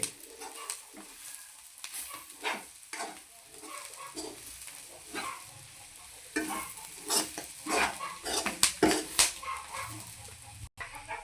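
Drumstick leaf fry being stirred with ground peanuts in a pan, an uneven run of scraping strokes and soft sizzling, quieter at first and then a busier burst of stirring clatter.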